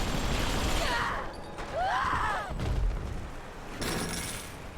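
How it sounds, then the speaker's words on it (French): Enemy gunfire in BioShock 2, several sharp bursts and booms at moderate loudness with a few pauses between volleys, heard without talk. "Qui me tire dessus?"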